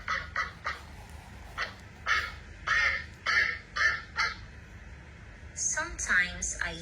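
Ducks quack in a run of loud, close, repeated honking calls with short pauses between them, followed by a quicker, higher-pitched burst of calls near the end.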